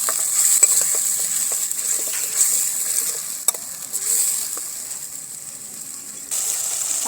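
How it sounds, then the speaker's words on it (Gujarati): A spatula stirs turmeric, red chilli and coriander-cumin powder into a tomato and sev curry in a hot pan, giving a steady close sizzle with repeated scraping clicks and no talking. "ધાણા જીરું પાવડર સરસ રીતે મિક્સ કરી લઈશું."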